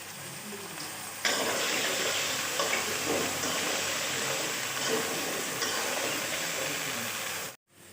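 Potato pieces fry in a pan with only salt, giving a loud, steady sizzle that bursts up suddenly and crackles continuously before cutting off abruptly at the end.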